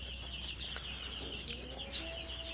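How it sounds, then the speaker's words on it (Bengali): Young Egyptian Fayoumi chicks kept indoors give soft, scattered peeps and clucks over a steady low hum, faint and fairly close, with no voices. "আর মুরগি বাচ্চাগুলো এর ভিতরে আছে"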